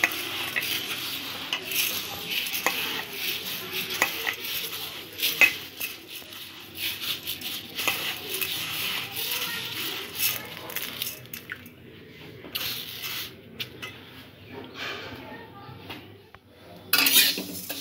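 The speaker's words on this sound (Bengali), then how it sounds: "কড়াতে মুগ ডালটা দিয়ে দিয়েছি, ড্রাই রোস্ট করে নেব।" Moong dal dry-roasts in a kadai, with repeated metal clinks and scrapes of a spatula stirring the grains against the pan, steady and close for a long stretch with a brief lull near the end.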